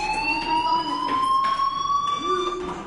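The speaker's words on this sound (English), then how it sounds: "do you hear that fire alarm?" A fire alarm rings in the video game Life is Strange. It is a steady, continuous electronic tone with bright harmonics that holds loud throughout.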